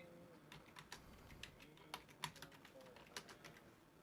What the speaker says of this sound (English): I can hear you typing, Teddy.